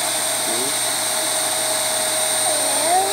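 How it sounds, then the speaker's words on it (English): A vacuum cleaner runs steadily while vacuuming a bed, a close, continuous whining drone with bright high tones and a brief rise in pitch near the end, loud and uninterrupted. "I'm vacuuming a bed."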